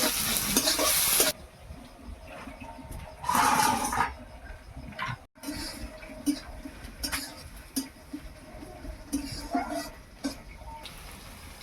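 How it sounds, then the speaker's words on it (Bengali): Chopped onion and green chilli fry in a pan with cumin seeds and sugar, crackling in soft bursts while a utensil stirs and scrapes against the metal at intervals, quiet and close. "পেঁয়াজটা লাল লাল করে ভাজা হয়ে গেছে,"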